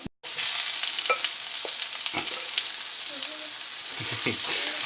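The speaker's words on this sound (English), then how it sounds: "Now we are going to put the herb butter onto the top of the steak." Herb garlic butter sizzles loudly on a steak in a hot skillet, a dense, steady frying hiss after a sharp start, with occasional utensil scrapes and faint low voices.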